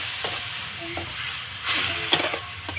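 Spice masala for Bengali khichdi fries in a pan, giving a soft continuous sizzle with occasional scraping stirs, close by and fairly quiet.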